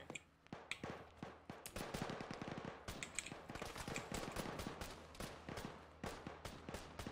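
Dense automatic gunfire in the Arma military video game, long rattling bursts of rapid shots with scattered single cracks, loud and continuous, no talk.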